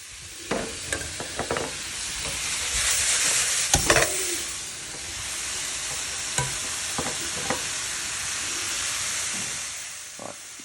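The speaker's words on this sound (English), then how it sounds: "we want to keep the meat moving. That's not to burn anything in the wok." Lamb sizzles and hisses as it is stir-fried in a wok, with metal utensil scrapes and stirring clatters punctuating a steady, close frying roar throughout.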